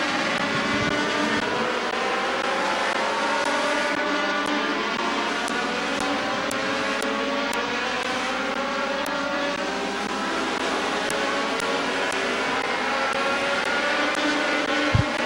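Race cars roar around the oval at Midvale Speedway, including a fast 410 car, with a steady, loud engine drone that rises and falls as the pack passes, filling the whole stretch without pause.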